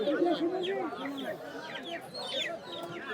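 Hens and roosters cluck and call over one another at a crowded poultry market in Kaikartek, a steady close chorus with a busy crowd murmuring underneath.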